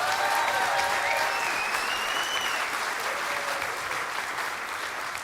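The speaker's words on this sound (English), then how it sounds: "So give them a round of applause." An audience at a Feast of Unleavened Bread youth presentation applauds children who recited verses, with dense, steady clapping filling the whole stretch and faint higher voices or whistles riding over it.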